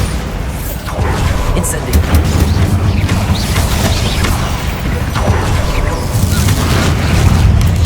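Spell blasts and explosions from Bombarda in Hogwarts Legacy, fought against spiders in a mine, form a loud, dense, continuous barrage of booms and crashing debris with no voices.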